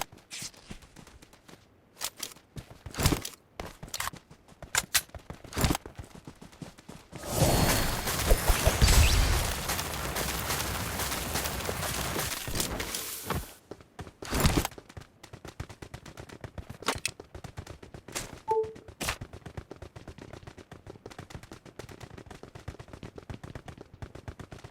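Video game gunfire in sharp, irregular shots spread throughout, with a dense sustained burst of automatic fire in the middle, loud and close.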